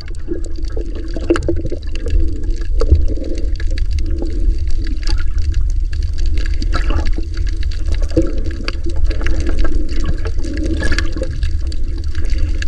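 Choppy, murky sea water churns and sloshes at sea in a loud, continuous rushing wash with small splashes throughout and no talking.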